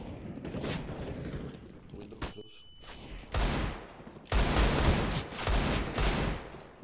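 Desert Eagle pistol shots in a shooter video game, several sharp loud reports in bursts with short gaps between them.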